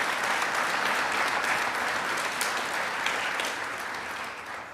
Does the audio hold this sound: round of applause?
yes